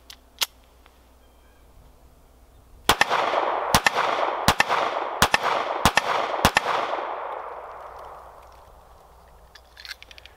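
Six sharp gunshots from a Taurus Spectrum pocket pistol fire in a quick, slightly uneven sequence, loud and close, with echo lingering and fading after the last shot.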